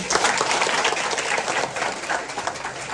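An audience claps and cheers at a TikTok marketing seminar, dense and steady applause filling the whole stretch at close range.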